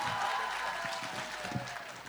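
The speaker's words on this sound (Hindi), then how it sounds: "जोरदार तालियां बजा दीजिए" Audience applause fills an outdoor literary stage event honouring a poet, with a steady, dense burst of clapping from a large crowd that holds loud and even from start to finish.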